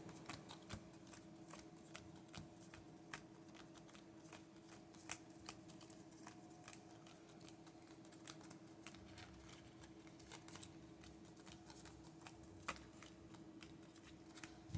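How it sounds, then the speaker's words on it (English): A deck of trading cards being pile shuffled, dealt card by card into piles with a steady run of soft, quiet clicks and taps at close range. Nobody speaks. "let me pile shuffle real quick."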